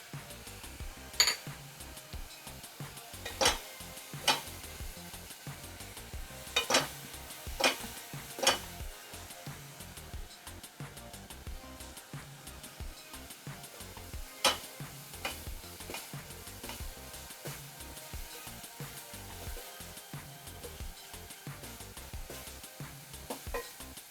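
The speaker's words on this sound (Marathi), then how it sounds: "हा कांदा छान थोडा लालसर होईपर्यंत भाजून घ्यायचा आहे आपल्याला." Onion for aloo dum fries in a pan on a full flame, making a soft, low sizzle broken by occasional sharp taps of a spatula against the pan.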